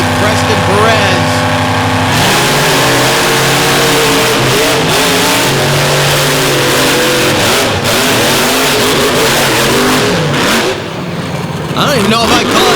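Monster truck engines roar and rev during a Monsters 'N' Megas side-by-side race, loud and sustained with rising and falling throttle, and an announcer talks over the noise.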